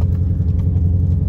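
Pickup truck driving through a mud hole on big wheels and tires with its four-wheel drive not working, a steady close engine rumble throughout the short stretch.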